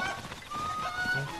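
Cucco chickens in Breath of the Wild's Kakariko village giving short honking clucks and squawks, faint and a little distant over game ambience.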